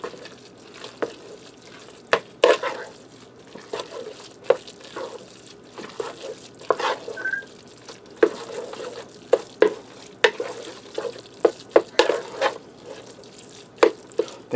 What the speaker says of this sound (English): And I'm going to stir that into the rice.